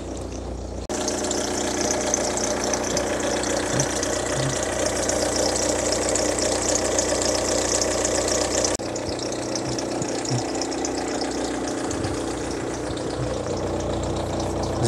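A diesel Škoda Fabia engine idles with a steady, close, continuous clattering rumble, holding an even level throughout with a slight change in tone partway through.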